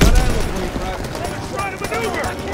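Rapid gunfire bursts from the World War II shooter Call of Duty: WWII crackle densely and continuously, loud and close, with game voices mixed in underneath.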